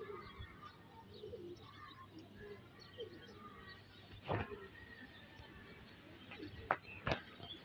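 A pigeon, one of the flying birds of a pigeon keeper, is heard faintly among soft coos and chirps outdoors, with a few sharper flaps or clicks near the end.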